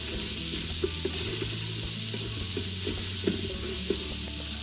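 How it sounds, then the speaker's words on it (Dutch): Onions fry in leftover pork fat inside an Instant Pot, a steady close sizzle with occasional stirring scrapes and a low appliance hum beneath. "En in het overgebleven vet mag je dan de uien even gaan bakken."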